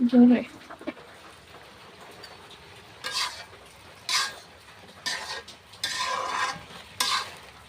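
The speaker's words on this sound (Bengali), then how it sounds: "দেখো এখন ভাজিটা নাড়া করে দিলাম" A spatula stirs a drumstick-and-egg stir-fry in a covered pan cooked without added water, giving several short scraping strokes spaced a second or so apart over a faint sizzle, fairly quiet.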